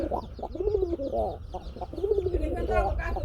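Domestic pigeons kept for sale coo in close, throaty, rising-and-falling calls, with people talking nearby.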